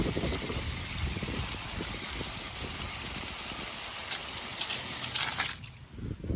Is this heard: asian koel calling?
no